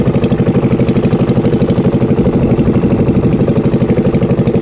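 A small dinghy motor boat's engine on a haor wetland at dusk chugs steadily with an even, rapid rhythm, close and fairly loud throughout, with no talking.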